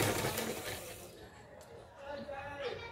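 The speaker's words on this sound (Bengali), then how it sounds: "এই যে রাখার পর এখন আমি সেলাইটা করে নিচ্ছি।" A sewing machine stitches cloth along a fold beside an invisible zip on a kameez neckline, a brief buzzing run that stops partway, with someone speaking over it.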